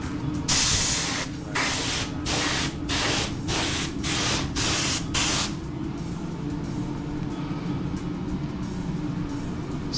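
Bursts of hissing aerosol spray paint from a cheap Harbor Freight can hit an SN95 Mustang GT panel, roughly eight short even passes in a row, then the hiss stops and a steady low background hum remains.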